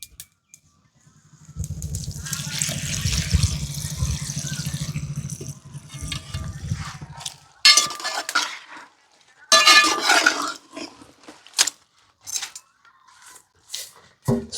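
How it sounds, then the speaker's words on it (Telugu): Water poured from a full vessel into a cooking pan on the stove for a chilli preparation, a steady splashing pour for several seconds followed by clinks of utensils and pans. "ఒక చెమ్ము నిండి అయితే నీళ్ళు తీసుకుని నీళ్ళు పోస్తున్నా"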